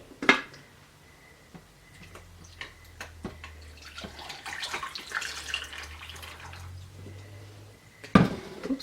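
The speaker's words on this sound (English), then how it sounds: "So now I'm going to just pour it into my glass of ice over here." Cooled hibiscus tea trickles and splashes into a glass of ice, a faint liquid pour with clinks of ice, ending in a sharper knock, with quiet room background.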